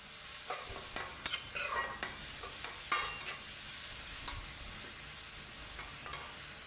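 Minced pork and soaked glass noodles being stir-fried with oyster sauce and dark soy sauce, a constant sizzle beneath a rapid series of spatula scrapes and clacks on the pan that fade to a quieter steady fry.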